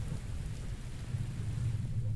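Thunder during a rainstorm, a low continuous rumble under steady rain hiss, moderately loud and sustained throughout with no clear voices.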